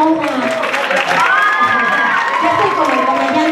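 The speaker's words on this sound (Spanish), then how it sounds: "aplauda." A convention crowd at a Sailor Moon fan event cheers and shouts loudly, with excited high voices and whoops rising over scattered clapping.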